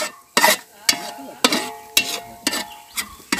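Pieces of country chicken sizzle in hot tempering in a pot over a wood-fired clay stove for a Malvani chicken curry, with about seven sharp stirring scrapes at a regular beat over a constant fry.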